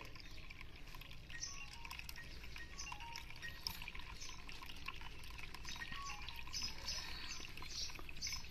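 Water is drained off wheat that soaked overnight, making a steady, faint pouring and trickling sound that runs for about eight seconds with no talk.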